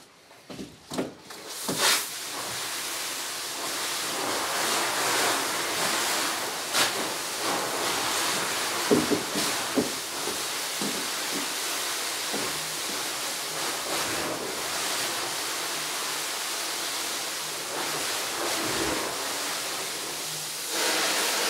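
A fire hose stream sprays hard into a room from the hallway to knock down a fire. It makes a steady, loud, broadband rushing hiss that continues without a break for about twenty seconds, with no voices.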